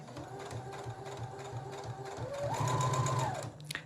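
A sewing machine stitches close to the edge of a fabric drawstring bag, running in a steady rapid whir that speeds up and grows louder partway through before stopping.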